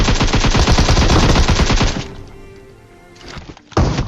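Shotgun blasts in a battle-royale video game ring out in a dense, loud run of rapid reports for about two seconds, then fade to a quiet tail before one more sharp burst near the end.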